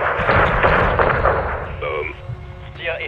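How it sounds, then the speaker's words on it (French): Heavy 40mm cannon blasts on a door in Call of Duty: Modern Warfare 2 thump and boom in quick succession, followed by a crackling burst, with a voice speaking over the din. "larguez un missile ou utilisez le canon 40 mm contre cette porte"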